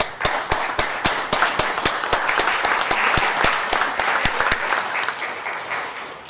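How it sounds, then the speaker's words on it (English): Audience at a Baldwin Park city finance authority meeting applauds supporters, a moderate roomful of steady clapping with several sharp, distinct individual claps standing out at a regular pace. "Round of applause for all of you coming out and being here."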